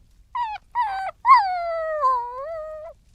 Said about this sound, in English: she heard its bark cut short, followed by a whimper